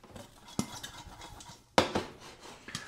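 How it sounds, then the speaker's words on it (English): Popcorn kernels rattle in a pan as it is shaken on the stove, with quiet scraping between a few sharper metallic clatters, close and faint, with no voices. "Shake it up and make sure that those tiny little kernels are going to the bottom of the pan."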